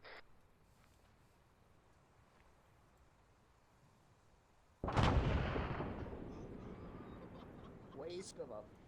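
A demolition charge detonates during army convoy training, a single sudden loud blast whose roar rolls away over several seconds amid outdoor wind noise, with faint radio-style voices heard briefly before and after.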